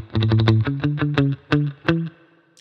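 Reggae lead guitar plays a short melodic line, sliding into the first note, then picking a rapid run of bright, plucked single notes followed by a few spaced ones. The guitar is close and clear, with no talking over it.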